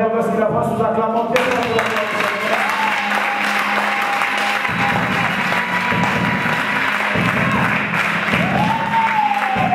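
Church audience applauding as a pastor is welcomed, loud sustained clapping and cheering filling the hall, with a voice speaking over it and brief musical tones at the start.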